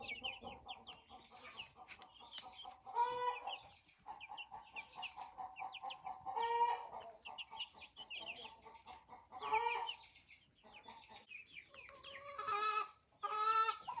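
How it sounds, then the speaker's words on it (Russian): Ameraucana chicks clucking and cheeping in a backyard coop enclosure, a series of close, fairly quiet chirping calls and clucks in short bursts separated by brief pauses. "Цыплята Амираукана."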